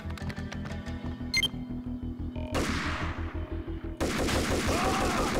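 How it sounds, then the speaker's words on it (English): Gunfire in the video game Max Payne rings out as a rapid series of sharp shots over a rhythmic music-like pulse, followed by louder bursts and a dense crackling volley. "He was not concerned about that bullet I just fired?"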